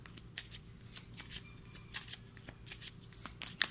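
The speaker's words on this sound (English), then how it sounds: "So I need one more card. Shuffling." A tarot deck is shuffled in quick repeated riffles, crisp papery flutters and taps close by, with no talking.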